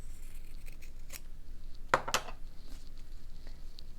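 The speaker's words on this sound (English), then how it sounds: "I'll snip this fabric" Scissors snip through fabric during slow-stitching tag work, two sharp close cuts in quick succession against a quiet room with faint handling rustles.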